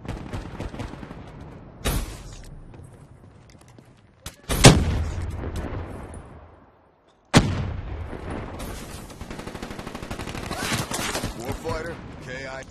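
Incoming artillery rounds in a video game land as heavy booming impacts, three big blasts with rumbling tails separated by gaps, followed by a rapid stutter of repeated explosive hits.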